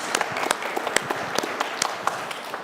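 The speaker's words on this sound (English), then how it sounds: "Can we get a round of applause for this fine panel?" Audience applause for a conference panel at a summit roundtable, a brisk spatter of many hands clapping at moderate distance, steady for a few seconds with no voices over it.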